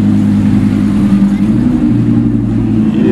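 A powerful car engine, around 1,000 horsepower, roars loud and close, with low, sustained revving that surges and holds steady throughout.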